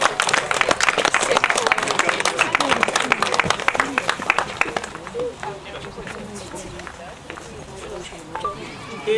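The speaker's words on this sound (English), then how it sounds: "a big round of applause for Park" Audience at a school medal presentation claps loudly in a crowded room, dense applause that tapers and thins in its second half as voices murmur underneath.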